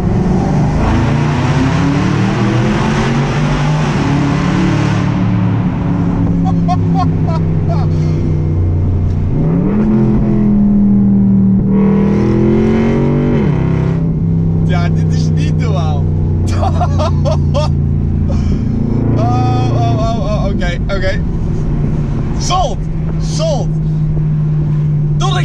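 A 2011 Maserati GranCabrio with its standard exhaust revs and pulls hard in second gear, its engine note loud and close, rising and falling through gear changes with a throaty burble between pulls.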